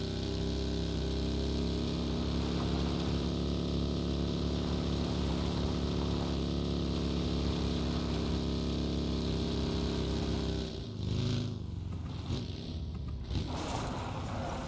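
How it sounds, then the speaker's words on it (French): A motorcycle engine in the battle-royale game PUBG, a steady droning hum with strong low harmonics that holds for about eleven seconds before breaking off into brief rustling noise. "J'entends une moto à gauche."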